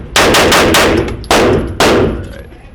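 Handgun shots fired downrange during a USPSA practice drill: a quick string of four sharp, loud cracks, then two more spaced shots, each ringing out briefly at an outdoor range.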